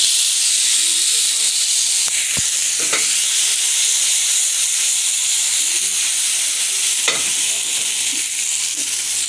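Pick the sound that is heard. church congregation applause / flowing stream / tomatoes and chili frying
tomatoes and chili frying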